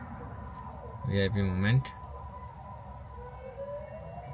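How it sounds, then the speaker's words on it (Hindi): Siren from vehicles passing in heavy road traffic, a short warbling wail that rises briefly and cuts off, loud and close, with someone speaking over the traffic noise. "मुझे आवाज़ आ रही है, सायरन बज रहा है, और देखो सामने से आगे गाड़ियाँ"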